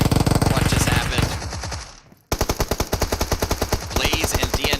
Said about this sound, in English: A lot of gunshots again.